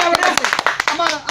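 An audience claps along in a short burst of sharp, slightly uneven hand claps while someone talks over them, waiting for a singer to perform.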